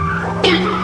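Car being pulled out of a pit: a steady engine drone broken by a sudden short tire-skid screech near the end, close and fairly loud, with no voices.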